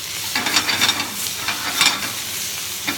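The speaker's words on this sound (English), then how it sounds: "Sauteing, the whole pan moves, which prevents burning and sticking." Bacon sautés in a pan, a bright close sizzle with bursts of scraping and stirring as the pan is moved, steady frying hiss throughout with no talking.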